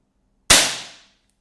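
A single sharp crack of a Diana P-five break-barrel air pistol shot, loud and close, ringing out briefly before fading into silence.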